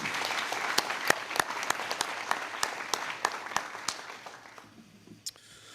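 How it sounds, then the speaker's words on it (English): A round of applause at a high school military recognition ceremony, steady crowd clapping with distinct sharp claps standing out, tapering off toward the end. "So let's give a round of applause for Ms."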